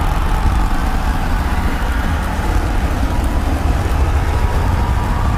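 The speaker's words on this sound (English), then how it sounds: "going for a landing burn, trying to light 2 of these Raptor sea level engines" Two Raptor sea-level engines on a SpaceX Starship firing during the landing burn, a loud, steady, broadband roar that runs unbroken throughout with no voices.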